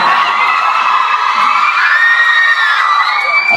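A crowd of fans screams and cheers loudly and continuously for a pop singer at a radio station appearance, high-pitched shrieks and whoops filling the room with no talk.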